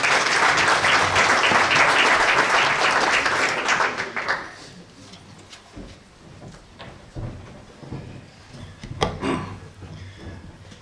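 Applause from a conference audience welcoming a speaker: dense, loud clapping for about four seconds that quickly dies away, leaving a quiet room with a few scattered knocks and shuffles.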